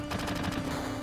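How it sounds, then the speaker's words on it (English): A rapid burst of sharp repeated cracks from grenades thrown in Final Fantasy VII, about half a dozen evenly spaced pops in quick succession, then a short ringing tail. "I'm gonna throw grenades at these guys."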